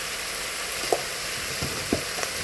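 An onion mixture sautéing in a pan, giving a loud, continuous close sizzle and crackle throughout, with a few faint stirring clicks and no speech.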